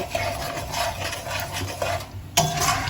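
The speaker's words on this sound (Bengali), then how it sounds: "এবার আবার এগুলো খুব ভালো করে এর সাথে কষিয়ে নেব" Spices and beaten sour curd are stirred and sautéed in a pan for a cauliflower and potato curry, giving a steady, close scraping and rubbing texture with a faint sizzle and a sharper scrape near the end.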